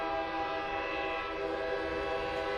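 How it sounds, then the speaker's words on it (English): A video game train gives a loud, sustained, steady whistle as it departs, with a low rumble underneath. "there is a loud whistling as the fully loaded train lurches into motion"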